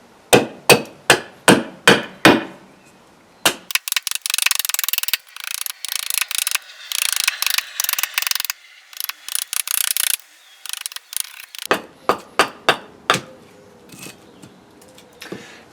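An axe chops wood while carving a spoon, with sharp, close, rhythmic strikes at the start and end around a stretch of rapid, harsh shaving and scraping.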